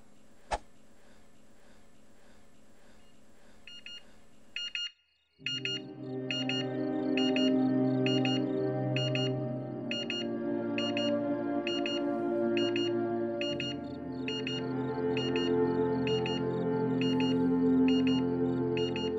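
Alarm clock ringing behind a door, a rapid repeating electronic beeping pattern that starts after a short silence and keeps going steadily over a low sustained musical drone.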